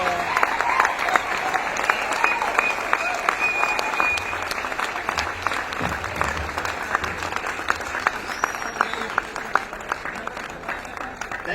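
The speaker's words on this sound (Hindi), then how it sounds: "तालियां बजती रहेंगी।" Sustained applause from a large audience at a Hindi-language gathering, steady dense clapping that continues throughout without a break, with faint voices mixed underneath.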